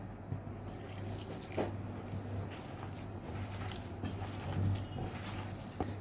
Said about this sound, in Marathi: थोडं थोडं पाणी टाकून मिक्स करूया